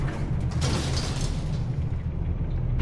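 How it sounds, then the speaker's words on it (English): Squeaky industrial elevator doors open in a video game, a steady mechanical grind and creak over a low rumbling hum, with no voices. "Nifty little industrial elevator doors."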